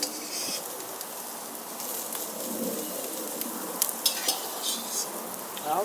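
Ribs and hamburgers cook on a barbecue grill with a faint, steady sizzle. A few light clinks of a utensil come near the end, and no one speaks.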